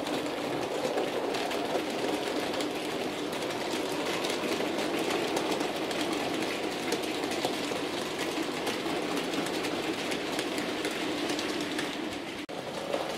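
A Bachmann Ivatt 4MT model locomotive climbs a slight gradient on a model railway track, giving a steady, close motor whir with a constant wheel rumble throughout.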